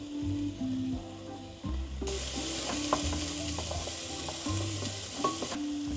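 Hot oil sizzles steadily as chopped onion fries, with stirring scrapes and a low background hum; no one speaks.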